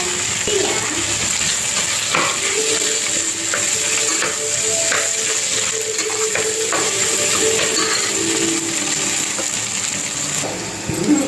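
Vegetables with chili powder sauté in a pan for a vegetable kuruma, with soft sizzling, scraping and stirring clatter from a spoon against the pan, close and moderately loud, without talk.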